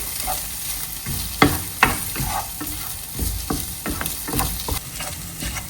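Chopped boiled egg and masala stirred and roasted in a pan, a loud close sizzle broken by repeated scraping and knocking of a spoon against the pan, no voices.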